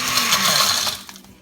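A blender grinds dried placenta into powder for encapsulation, a loud, dense whirring that runs steadily and then winds down near the end of the short burst.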